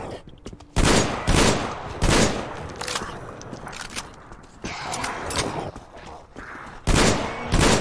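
Several loud, sharp shotgun blasts in the video game Metro Exodus, fired in spaced bursts with quieter shuffling and mechanical clatter between shots.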